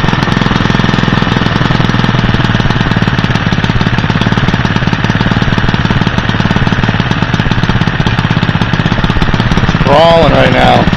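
An engine fitted with a GEET plasma reformer idles very low, giving a loud, steady, rapid mechanical chatter throughout, with a brief voice near the end.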